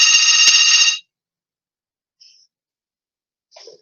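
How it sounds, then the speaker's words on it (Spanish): An office cubicle desk telephone gives one loud, steady electronic ring burst of about a second. Near silence follows, with a couple of faint, brief chirps. "es el teléfono del cubículo"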